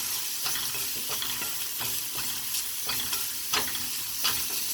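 Spices such as paprika being stirred into cauliflower frying in a pan, a steady sizzle under repeated scraping strokes of a spoon at a loose rhythm, close and moderately loud, with no talk.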